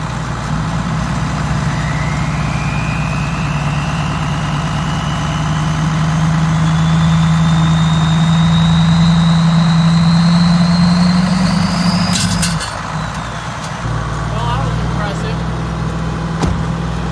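A loud, steady engine drone from a 700HP truck strains while pulling against a tractor held by duct tape. A rising whine climbs over several seconds, then the noise drops abruptly and settles back to a rumbling idle.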